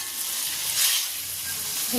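Loud, steady sizzling of meat frying in hot oil, a bright crackling hiss that swells briefly in the middle.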